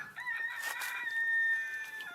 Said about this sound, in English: Hear my rooster in the background.